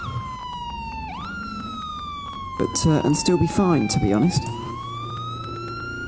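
A safety car's wailing siren at the Subida al Fito hill climb, European Hill Climb Championship round 4, sweeping steadily up and down while someone talks over the middle stretch.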